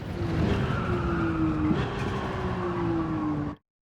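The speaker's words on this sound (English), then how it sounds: "I'm basically braking about 70 meters, and I'm going to downshift aggressively to 2nd gear in a straight line." A Nissan R34 Z-Tune in a racing video game braking hard with tyres squealing, engine note steady then shifting as it downshifts, loud and continuous before cutting off abruptly.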